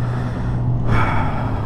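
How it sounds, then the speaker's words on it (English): Loud, deliberate breathing inside a closed helmet visor, close to the mic: a long muffled exhale, then a sharper, brighter intake of breath near the end, boxy and enclosed, with no talking. "So I'm going to purposely breathe in and out really loud just to see what it sounds like."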